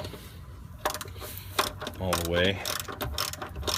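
A ratchet clicks in quick bursts as a bolt is tightened on the drive shaft of a 1999 Mercedes-Benz ML320 during a center support carrier bearing repair, close and fairly loud, with someone speaking briefly between the bursts.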